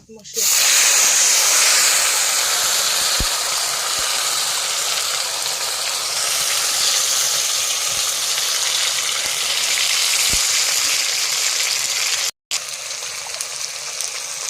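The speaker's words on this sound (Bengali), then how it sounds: "মশলাটা কষিয়ে নিচ্ছি।" Ginger, garlic and onion paste with whole garam masala and bay leaf sizzles in a hot pan while meat curry cooks, a loud steady hiss running nearly the whole time and cutting out briefly near the end.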